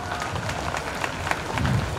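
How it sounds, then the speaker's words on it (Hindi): Audience clapping at a school spring fest, a steady crowd applause lasting the whole two seconds with a busy murmur of people mixed in. "मैं आग्रह कर रहा हूं तालियां बजाइए, आपकी तालियां बजनी चाहिए।"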